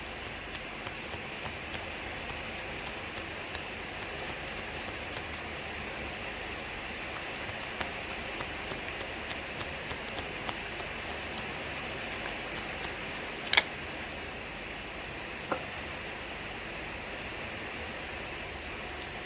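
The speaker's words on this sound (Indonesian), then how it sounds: "Mudah-mudahan kamu bisa mendengar suara saya karena hujannya makin deras nih." Heavy rain falls steadily as a dense, even hiss that runs unbroken for about twenty seconds, with a few sharper drips and taps and no talk over it.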